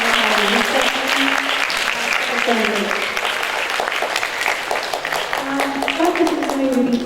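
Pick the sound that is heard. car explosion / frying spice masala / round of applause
round of applause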